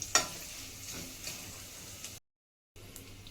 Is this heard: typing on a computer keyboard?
no